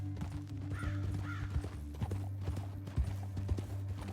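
Horse hooves clopping in Red Dead Redemption 2, a steady near rhythm of footfalls over a low droning game soundscape with scattered thuds; no voices.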